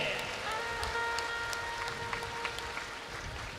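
An audience applauding at a Bhagavat Katha, steady soft clapping from a crowd at a moderate distance, sustained throughout with a faint tonal drone underneath.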